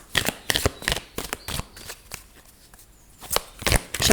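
Tarot cards being shuffled by hand in quick bursts of crisp riffling, with short pauses between rounds, close and fairly loud.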